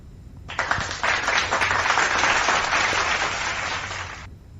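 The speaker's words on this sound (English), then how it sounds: "Let's give her a round of applause." A crowd claps steadily for about four seconds, a dense wash of hands that starts abruptly, holds even, and fades out, with no voices over it.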